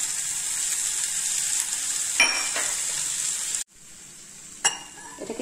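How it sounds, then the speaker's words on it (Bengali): A boiled banana flower mixture with potato and fried spices gets stirred in a hot pan, with a steady sizzle and a few scraping strokes and clinks of the spoon against the metal. "এটাকে একটু নাড়াচাড়া করে নিয়ে আমি নামিয়ে নিলাম।"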